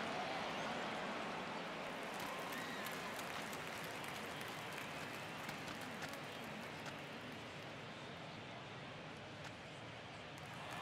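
Baseball stadium crowd during a tense one-run ninth inning with the Tigers batting, a dense, sustained roar of cheering and noise that fills the space continuously from start to finish.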